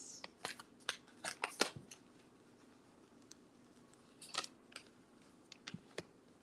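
Tarot cards are laid out on a surface for a reading, giving soft, quiet clusters of crisp snaps and slides in two brief bursts with a hush between.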